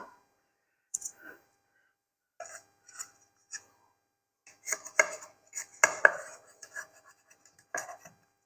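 A palette knife working egg muffins loose from a baking tin, giving sparse light metallic scrapes and clicks that grow busier and denser later on, close and quiet against a silent background.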